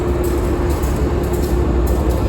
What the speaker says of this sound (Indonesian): ini yang tadi yang dibawa kereta api Motis sudah dilepas 2 ini